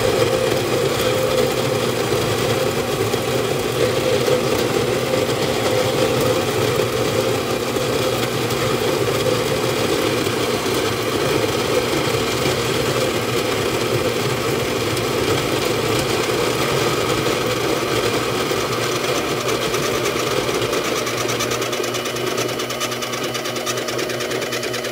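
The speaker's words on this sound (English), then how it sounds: "I'm going to put this in the grinder now. It's going to get noisy." An electric coffee grinder grinds 30 grams of coffee beans for V60 pour-over, producing a loud, steady motor whir with a gritty buzz that continues unbroken from start to finish.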